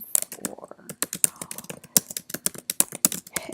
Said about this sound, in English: can start typing